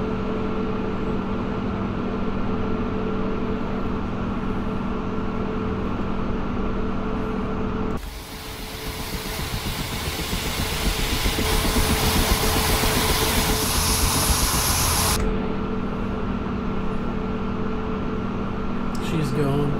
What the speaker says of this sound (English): Get that second engine started.